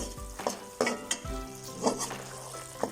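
Sugar syrup is poured into a hot pot for a Punjabi jaggery rice dish, giving a close, soft sizzle with a few light stirring scrapes against the pot.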